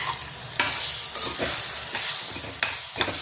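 Raw mango chutney stirred in a hot pan over lowered heat, a steady sizzle and frying crackle with occasional scraping clicks of the spoon against the pan, close and fairly loud, no talk.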